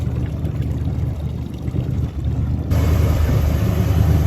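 A bilge pump on a 1971 Century Resorter boat runs continuously, pumping out rainwater with a steady churning, pouring wash over a low motor hum, loud and close, intensifying partway through.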